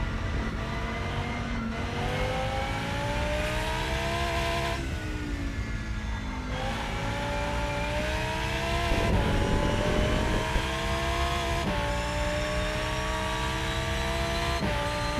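A Mercedes race car engine in the Rennsport racing game howls steadily through gear changes, rising in pitch, dropping at each shift, then climbing again, loud and close with no talking.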